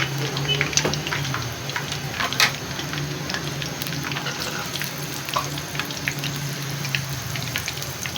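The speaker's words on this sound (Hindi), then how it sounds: "बारी बारी सारे पीसेस को फ्राई कर लेते हैं।" Besan-battered chicken pakora pieces frying in oil, a continuous crackling sizzle with scattered pops and light clinks, fairly close and steady throughout.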